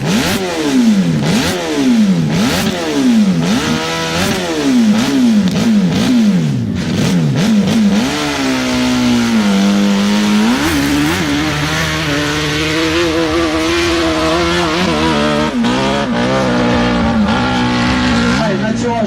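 A racing motorcycle roars up a hillclimb course, its engine revving hard through repeated rising gear changes, then holding a steady high drone as it climbs, loud and close, with excited commentary over it.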